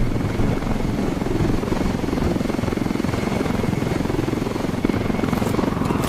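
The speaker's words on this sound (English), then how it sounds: "Weaver, Nomad and Holt are base jumping from the helicopter." Helicopter in Ghost Recon Wildlands flies in a steady, loud rotor drone with a fast chopping pulse that holds unbroken throughout, close and alone with no talk over it.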